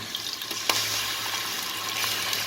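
Onions sauté in a pan for mutton biryani, giving an even, close sizzle with soft stirring scrapes throughout. There is no talk.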